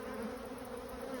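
Honey bees robbing a hive make a dense, continuous buzzing drone, close and steady, with no talking.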